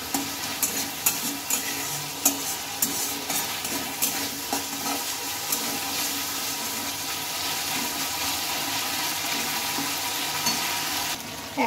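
Masala paste for a moong dal and pointed gourd curry frying in oil as it is stirred, a close, steady sizzle with regular scraping strokes of a spoon that ease into a continuous hiss toward the end.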